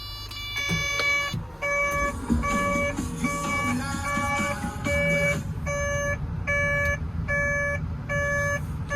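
Regular electronic warning beeps from a digger repeat steadily, each a short stacked tone, over a constant low mechanical hum; no talking.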